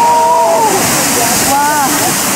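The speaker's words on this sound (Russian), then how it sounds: "Раз в 4-6 минут он выстреливает водой метров на 20 вверх под восторженные возгласы туристов." Strokkur geyser erupting, shooting water about 20 metres into the air: a loud, steady rush of spraying water fills the short stretch, with a few raised voices calling out over it.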